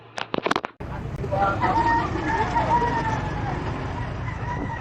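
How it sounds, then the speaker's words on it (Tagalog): Chickens cluck and crow in a busy outdoor market with a murmur of people and traffic, after a few sharp knocks at the start. "May mga manok pa, oh, pang sabo?"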